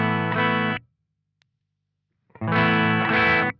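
Electric guitar played through a J. Rockett The Dude overdrive pedal with gain at zero, two loud, clean sustained strums separated by about a second and a half of silence.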